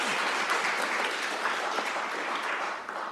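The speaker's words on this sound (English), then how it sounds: "please applaud" Applause from a conference audience at a California climate projections event, a dense, steady wash of many hands clapping that holds evenly for about three seconds before easing slightly at the end.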